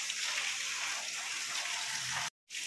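Heavy rain pours steadily as a dense, even hiss close by, running unbroken before cutting out abruptly for a moment near the end and then resuming.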